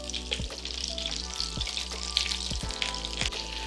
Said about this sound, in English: We're gonna let our shrimp fry on the first side for about 1 minute.